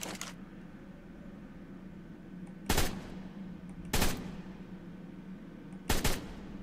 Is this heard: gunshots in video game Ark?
yes